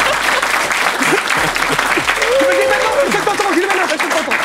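Loud, sustained applause from a studio audience on a French talk show, a dense roar of clapping with cheering, while people talk and laugh over it.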